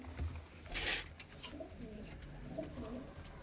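Malwai pigeons, a Punjabi breed kept by fanciers, coo softly a few times with low murmuring calls and a brief flutter near the start, set against quiet background noise.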